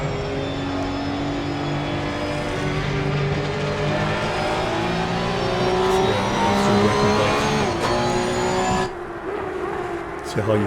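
Porsche Cup race car at Donington Park, its engine droning steadily and loud with shifting revs throughout, then dropping abruptly near the end.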